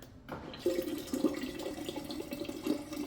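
Water sputters and spurts from a GE Cafe refrigerator dispenser just after a filter change, as air bubbles break up the flow into an uneven, gurgling stream with a steady hiss, fairly close and without talk.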